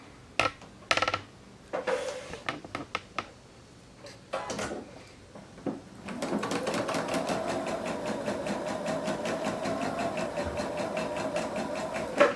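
A sewing machine stitches a small hem into the end of a quilt binding, a steady close run of rapid needle strokes after several seconds of scattered handling clicks and knocks.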